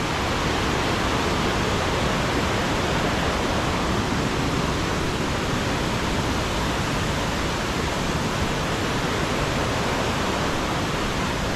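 Steady, loud broadband roar of water pouring over the Tad Kuang Si waterfall in Laos, a continuous close rush with no breaks and no voices.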